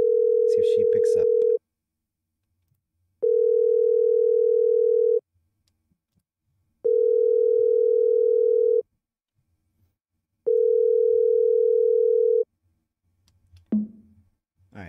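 Ringback tone of an outgoing Skype call: four long steady beeps evenly spaced by silences, clear and close, with a short click and rustle at the end.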